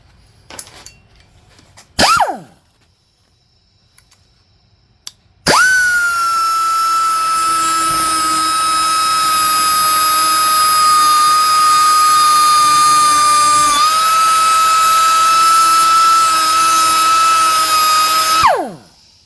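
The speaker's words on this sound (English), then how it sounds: "Right now I've got this air cutting tool with the metal cutoff blade on it." An air-powered cutoff tool with a metal cutoff blade spins up after a few faint knocks into a loud, high, steady whine, held close for about thirteen seconds with a slight dip in pitch midway, then winds down.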